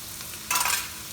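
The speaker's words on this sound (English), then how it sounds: "to this, we're gonna add some minced meat" Minced meat dropped into a hot pan of sauteing aromatics for Indian-style dirty rice, giving a sudden short burst of bright sizzling that swells for a moment, then settles back to a low steady fry.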